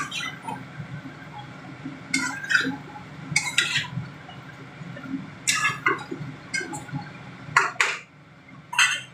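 Spices added to chicken pieces in a pot and stirred, with scraping clinks and wet shuffling bursts at irregular intervals over a low background hum.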